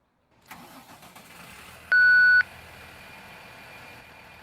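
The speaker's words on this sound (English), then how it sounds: "And to start this bus, you hold M." A bus engine starts up in a driving video game, preceded by a short, loud electronic beep tone, then a steady mid-pitched engine idle runs on at moderate level.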